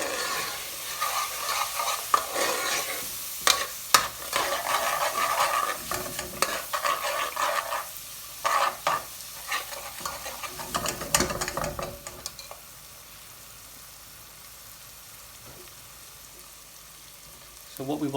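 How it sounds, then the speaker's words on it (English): Chili, Handi and garam masala spices are stirred in a hot pan over high heat, with sizzling, scraping and clattering of the spoon in irregular bursts. The sizzling then drops to a quiet, steady fry near the end. "I'm going to put the heat up now and cook the spice."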